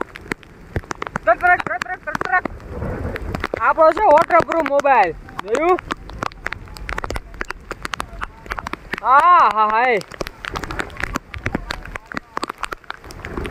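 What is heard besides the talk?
rain falling with wind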